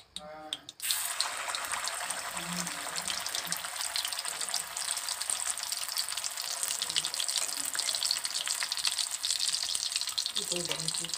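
Soybean chunks dropped one by one into hot oil in a kadai, setting off a sudden, steady hissing sizzle that runs close and fairly loud, with a faint voice near the end.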